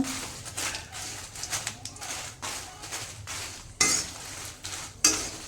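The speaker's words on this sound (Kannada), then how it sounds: "ಮೆಣಸಿನ್ಕಾಯಿ ಚೆನ್ನಾಗಿ ಹುರ್ಕೊಳ್ರಿ ಎಣ್ಣೆ ಹಾಕಿ" Dry red chillies being roasted in oil in a pan for chutney, heard as a soft background sizzle with repeated scraping and stirring strokes and a couple of sharper metallic clinks of the spoon against the pan.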